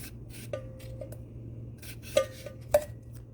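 A hand peeler scrapes the skin off a potato in a few faint, short rasping strokes, quiet and close, with brief gaps between them.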